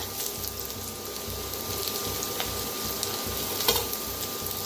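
Curry leaves, green chili, garlic and coriander stalks fry with onion in a pan, a steady dense sizzle and bubbling hiss that holds even throughout with a faint stirring scrape, close and continuous.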